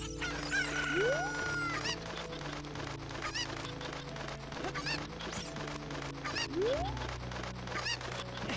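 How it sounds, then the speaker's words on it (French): Chickens in the Zelda game Sands of Time: a rooster-like crow and fowl calls sound repeatedly over busy game music and effects, with rising chirps in between. "Oh attends, c'est une poule que j'entends."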